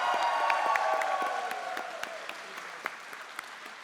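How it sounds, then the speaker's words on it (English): Applause from the audience at a youth gaming final's prize ceremony: thick clapping that gradually thins out, leaving a handful of distinct individual claps near the end. "Give him a round of applause."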